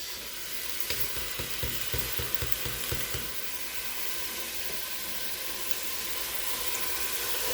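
Mixed vegetables sautéing in a pan: a steady, close hiss of frying, with a run of rhythmic stirring knocks early on before the sizzle carries on alone.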